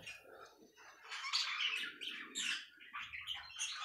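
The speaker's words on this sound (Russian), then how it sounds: "замечательных созданиях. О волнистых попугайчиках." A flock of budgerigars chirps and chatters continuously nearby, a dense mix of bright tweets and scratchy squawks, with occasional soft rustling and no voices.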